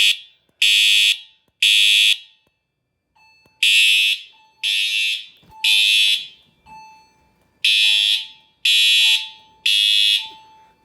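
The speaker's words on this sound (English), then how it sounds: "before I pull the alarm" A Wheelock fire alarm set off from a pull station during a new system test sounds loud, repeated electronic horn blasts in steady bursts, about ten pulses separated by short gaps, with a faint steady tone beneath. No one speaks.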